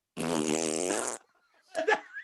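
Voice imitating a fart, a single drawn-out buzzing raspberry lasting about a second, close and loud, followed by a short burst of laughter.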